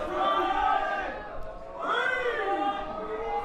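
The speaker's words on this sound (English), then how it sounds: "The crowd willing on Andy Steele" A live professional wrestling crowd roars and chants in sustained waves, rising and falling as it urges on a wrestler during a tag-team match, loud and dense with many overlapping voices.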